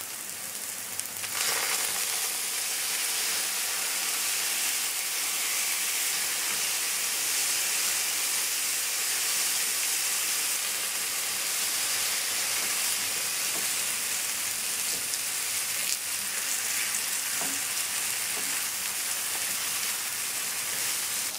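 Soy sauce hits frying tofu in a hot pan, bursting into a loud, dense sizzle that hisses steadily on and on without any voices.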